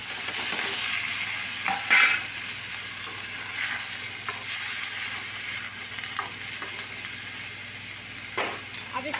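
Potatoes fry in a kadhai with a steady hiss and sizzle, broken by occasional louder stirring scrapes and clinks close by, with no talk.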